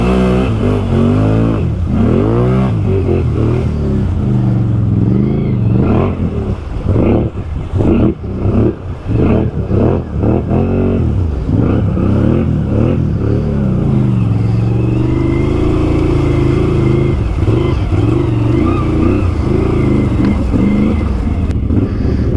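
A 2020 Can-Am Outlander XMR ATV with a swapped-in 850 engine being ridden, its engine close and loud, revving up and down in repeated sweeping surges with brief dips between throttle blips.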